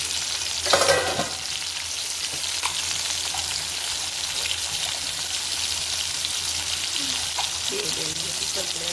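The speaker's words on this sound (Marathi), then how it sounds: "लसूण, टोमॅटो टाकून घेऊया, तेलामध्ये भाजून घेऊया" Garlic and tomato fry in hot oil with a steady close sizzle, a louder burst of spattering near the start and light utensil knocks later, without speech.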